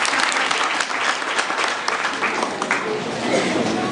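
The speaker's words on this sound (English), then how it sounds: "Can you clap for me?" An audience of students at a training session claps steadily and densely for several seconds, with voices audible underneath the applause.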